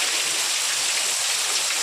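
Steady rain pours down in a dense, even hiss, with no breaks or voices.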